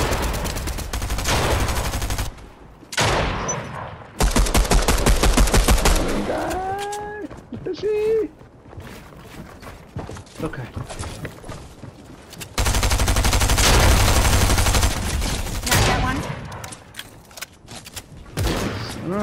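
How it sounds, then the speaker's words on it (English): Rapid bursts of gunfire from an opposing team in a multiplayer shooter video game, loud and sustained in several volleys, with excited players talking over and between the shots. "Someone else is shooting."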